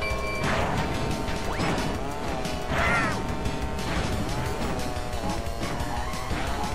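Car crash against a wall in the kart racer Crash Team Racing: a sharp smash-and-clatter impact over busy game music and engine drone, with a brief whoosh, loud and close.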